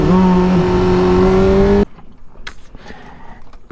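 A manual car's engine held at high revs with a steady droning note that climbs slightly, then cuts off abruptly to near quiet with faint knocks and clicks as the clutch and shift work happen.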